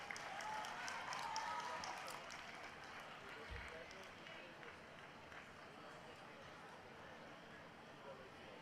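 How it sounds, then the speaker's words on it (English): An audience applauds a former State Minister of Home Affairs as a guest at a golden jubilee celebration evening session, a dense, steady wash of clapping that continues throughout, with crowd noise mixed in. "Can we have a round of applause for him, please?"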